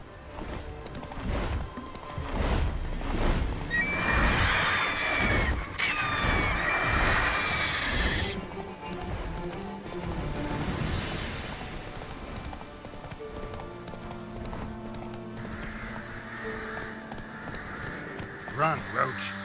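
Geralt's horse Roach gallops in The Witcher 3, a steady rhythmic clip-clop of hooves running under game sound and a voice, with a whinny-like burst partway through.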